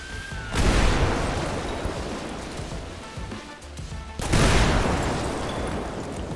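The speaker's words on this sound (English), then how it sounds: "We still have stuff exploding." Two heavy explosions from a hazmat container fire in GTA 5, each a sudden loud roaring burst that slowly dies away into a rumbling wash, the second arriving about four seconds after the first.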